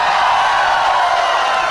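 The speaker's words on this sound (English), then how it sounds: "Can we have one full house cheer, everybody?" An audience at a leadership fashion show cheers as one, a loud, dense, sustained roar of crowd voices filling the room without a break.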